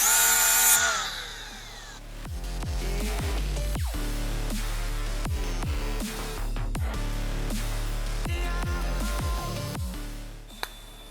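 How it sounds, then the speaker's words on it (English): A grinder working the edges of a gusset on a 1987 Honda TRX250R frame, a sustained loud whine after a short start-up burst, pitch dipping repeatedly as the disc bites the metal, ending with a sharp click. "Now I'm gonna go ahead and grind my edges."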